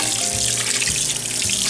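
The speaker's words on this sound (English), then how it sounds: "Okay, we're gonna drain them and rinse them." Running tap water splashes steadily into a sink as a can of black beans is drained and rinsed, a continuous close hiss and patter with no one speaking.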